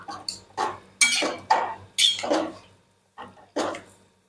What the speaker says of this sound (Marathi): हे एकदा हलवून घेते आणि झाकून ठेवूया आपण याला